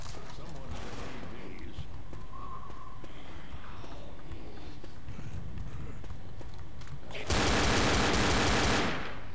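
Gunfire in Left 4 Dead: scattered shots and clattering bursts under game noise and voices, ending in a loud, dense rapid volley near the end of the clip.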